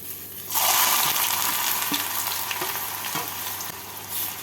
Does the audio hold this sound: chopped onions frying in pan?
yes